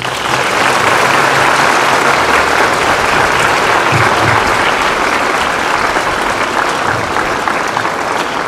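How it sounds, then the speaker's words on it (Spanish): School audience at a flag day ceremony applauding loudly and continuously, dense clapping from a large crowd throughout. "Un fuerte aplauso."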